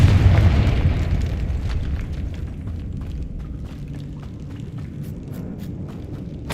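A Confringo fire spell blasts in the Hogwarts Legacy video game: one loud, deep boom at the start that rumbles and slowly fades over several seconds, with faint crackles and game ambience behind it and no talking.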